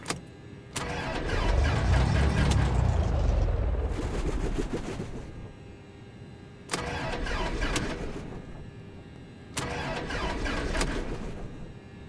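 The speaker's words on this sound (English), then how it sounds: "Just the sounds of the engine cranking really kind of blew me away." In a flight simulator game, an aircraft engine cranks three times. Each attempt is a loud burst of rough, churning starter noise that lasts a few seconds and is separated by brief pauses. No one speaks.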